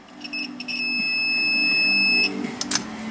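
A single steady electronic beep from a multimeter's continuity test, high-pitched and sustained for about a second and a half, over faint background hum.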